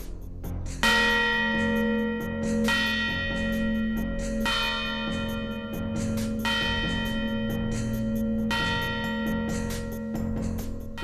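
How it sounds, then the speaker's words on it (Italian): A village church bell in Meana Sardo, Sardinia, tolls to mark a death. Five loud, slow strikes ring out at regular intervals, each with a long, humming decay, with no speech. "Un lutto nel paese di Meana Sardo era segnalato dai rintocchi della campana."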